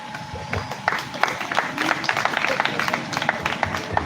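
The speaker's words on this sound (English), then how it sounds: "I feel we haven't clapped yet enough to this amazing soul." Audience clapping at an essay award ceremony in Uganda, a steady moderate round of applause from a crowd, evenly sustained and fairly close.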